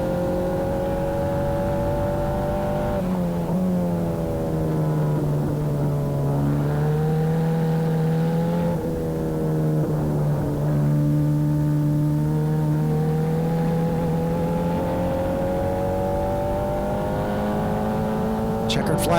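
Formula 4 race cars at a New Jersey road course, several engines whining past in overlapping waves with rising and falling pitch, steady and fairly close, under a race commentator's voice.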